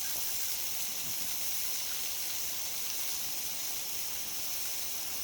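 Cold water from a garden hose runs for pigs taking a drink on a hot summer day, a steady, close hiss and gush of flowing water with no voices.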